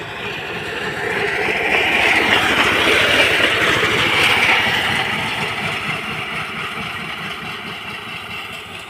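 A passenger train rumbles past nearby, swelling to a loud rushing roar with rhythmic wheel clatter, then gradually fading as it moves away.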